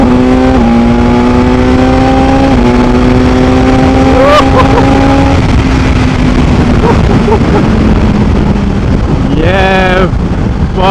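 BMW S1000XR motorcycle pulling hard in third gear, its engine note rising steadily under heavy wind rush, with a gear change near the end as revs climb again.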